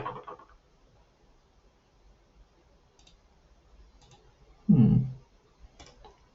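A computer mouse clicks a few times, quiet and sparse, with short gaps between the clicks and a soft thump in between.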